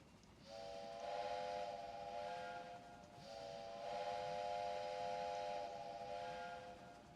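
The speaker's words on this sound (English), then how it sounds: "Next train arriving at Washington." A train in the Railway Empire video game sounding its whistle on the approach to Washington station, two long chord-like blasts over a low rolling rumble.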